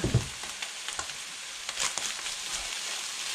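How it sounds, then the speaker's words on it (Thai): Grilled salmon fried rice is stir-fried in a pan with seasoning powder, a little sugar and light soy sauce. A soft, steady sizzle runs throughout, broken by light scraping stirs, fairly faint and close. "แล้วเราก็ผัดให้เขาเข้ากันนะคะ"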